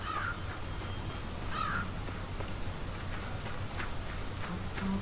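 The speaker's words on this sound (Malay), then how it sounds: "Burung gagak." Crows caw in the dark video game Limbo, two clear calls near the start and around the middle, each a short harsh double caw over a low steady ambient hum, with faint ticking in between.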